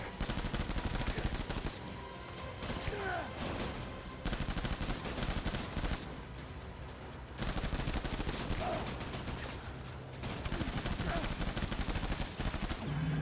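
Sustained gunfire during a boss fight in the video game Death Stranding, dense bursts of shots running almost continuously with a few brief lulls, loud and layered with other game sounds.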